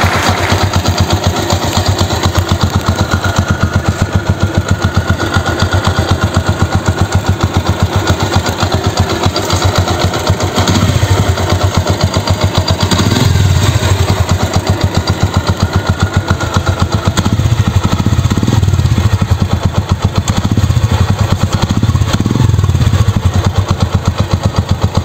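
Yamaha YTX 125 motorcycle engine idling steadily after five days unused, a loud continuous low thrum with mechanical clatter throughout, close by and with no talk.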